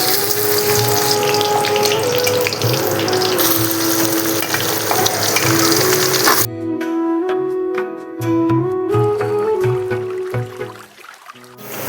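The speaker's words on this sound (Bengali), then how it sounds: "এখানে আমি গোটা গরম মশলা আছে, আমি দিয়ে দেবো তেলের মধ্যে।" Whole spices sizzle in hot oil for a turkey biryani: shahi cumin, two star anise, black and green cardamom, cinnamon, bay leaf, whole dried chillies and cloves. A steady, loud crackling hiss is partly covered by music.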